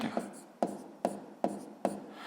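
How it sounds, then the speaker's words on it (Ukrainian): A fraction is written by hand for a sixth-grade math exercise: quiet, close pen strokes scratch on paper in short, evenly spaced bursts, each beginning with a small tap. "Давайте запишемо цю частку у вигляді звичайного дробу 168 144"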